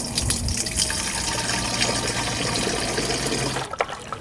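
Water pouring into a garden sprayer tank, a steady rushing gush with some splashing that runs continuously for most of the moment before cutting off near the end.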